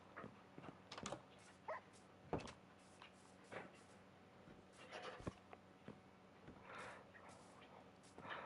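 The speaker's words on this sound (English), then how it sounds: "Shush dogs." Faint dogs bark and whimper indoors in scattered short yelps, with soft knocks and clicks around them at low volume.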